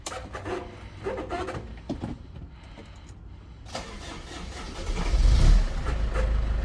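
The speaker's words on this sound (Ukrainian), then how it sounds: "Так, я зараз вам цей автомобіль заведу" A 2006 Mercedes Sprinter 413 engine cranks and fires, building to a loud diesel rumble that settles into a steady, close idle.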